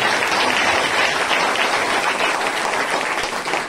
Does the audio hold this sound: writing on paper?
no